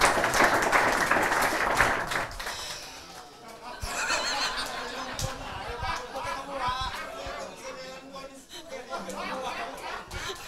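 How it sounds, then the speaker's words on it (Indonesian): An audience at a training session applauds, with dense clapping in the opening seconds that gives way to lively crowd chatter, shouts and laughter, with a voice speaking through the noise. "Tepuk tangan lagi untuk teman kita."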